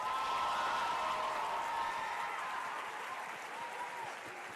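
Sustained applause from a large audience of middle and high school students at an International Baccalaureate 50th anniversary school event: dense, even clapping that holds steady and tapers slightly toward the end.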